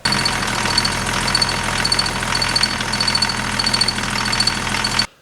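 BMW E34 525td diesel engine idling steadily after repair work, a continuous rough low clatter with a faint repeating high tick, held at a constant level before cutting off abruptly near the end.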